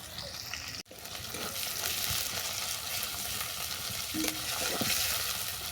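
Chopped onion and ginger paste sauté in a hot pan, a steady close sizzle with scraping stirs throughout, broken by one sharp knock of a utensil near the start.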